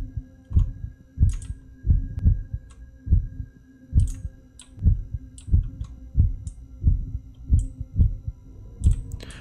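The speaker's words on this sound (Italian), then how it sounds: "Sento il battito cardiaco" Heartbeat effect in the Backrooms horror video game, a loud, steady double thump repeating about once per second throughout, with faint clicks between the beats.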